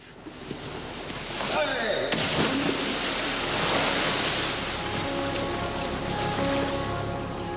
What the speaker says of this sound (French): On commence avec de petites vagues de 30 cm de hauteur.